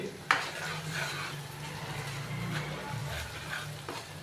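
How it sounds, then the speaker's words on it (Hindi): Ginger garlic paste sizzles and crackles in a hot pan while a utensil stirs and scrapes, a soft steady frying hiss throughout. "अच्छे से मिक्स करेंगे और हल्का सा इसको फ्राई करेंगे"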